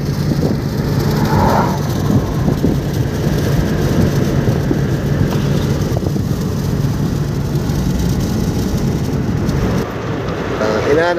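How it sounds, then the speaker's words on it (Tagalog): A tropical storm at Patar White Beach, Bolinao, Pangasinan brings a loud, unbroken roar of heavy rain and wind lasting throughout. Voices talk faintly beneath the noise. "yan ang bagyo."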